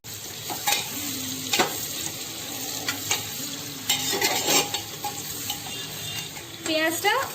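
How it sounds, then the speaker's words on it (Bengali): Onions frying in hot oil with whole garam masala for a mutton biryani, giving a steady sizzle broken by repeated scraping stirs and clinks of a utensil against the pot, close and moderately loud. "তেলটা গরম হয়ে গিয়েছে, এবার আমি এর মধ্যে পেঁয়াজ দিয়ে দেবো।"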